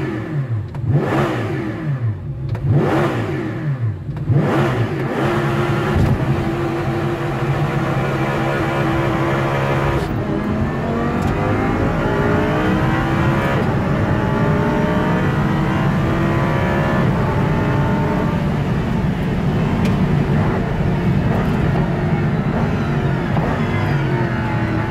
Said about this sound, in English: a ride in Audi R8 LMS over the Nürburgring